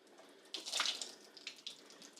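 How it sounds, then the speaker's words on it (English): Cooked squash water pours out past a pan lid held at the side, a quiet splashing stream that surges and eases in small bursts with no talking. "I just use my lid to drain it."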